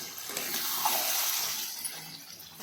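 Water pours into a pot of chicken curry as a steady, unbroken splashing rush that lasts a few seconds, close and fairly loud, with no voices.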